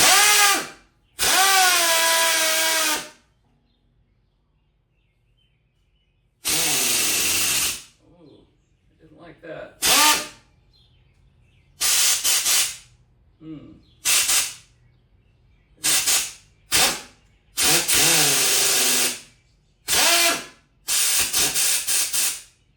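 A Snap-on IM150B air impact gun fires in several bursts of differing length, harsh high-pitched pneumatic whirring with rattling, separated by silences; someone briefly speaks between bursts.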